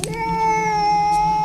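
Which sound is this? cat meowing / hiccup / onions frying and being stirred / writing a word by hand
cat meowing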